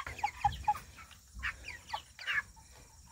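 Cornish Cross meat chickens clucking in short, repeated bursts, several birds calling close by with soft scratching and rustling between calls.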